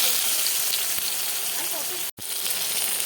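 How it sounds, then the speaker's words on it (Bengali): Onions added to hot oil with five-spice seeds sizzle loudly and continuously, with a brief dropout near the end before the hiss carries on. "আমি দিয়ে দিলাম পেঁয়াজ।"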